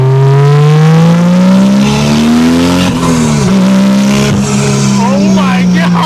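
A 2JZ-GE swapped, naturally aspirated-to-turbo MK3 Toyota Supra pulls hard under boost, its engine note climbing steadily in one loud continuous run with a brief dip near the middle, recorded from inside the car.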